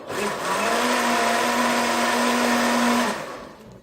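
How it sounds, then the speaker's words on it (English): An electric blender whirs loud and steady for about three seconds, mixing an orange, carrot and pineapple smoothie, then winds down and stops. "I'll start by just refreshing it in the blender"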